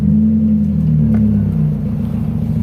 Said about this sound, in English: And start the car.